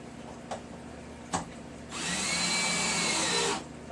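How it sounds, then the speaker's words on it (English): A cordless drill drives a hex head screw into wood while building a stand for stacked 55-gallon drums, giving one steady, close whine of motor and bite that lasts about two seconds after a few light clicks and taps. "Set this drill in there, squeeze the trigger."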